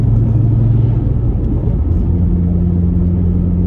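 A VW Golf Mk4 with a damaged driveshaft pulls out to overtake. A loud, steady engine and road rumble runs throughout, with a low engine drone that shifts pitch midway as the car accelerates.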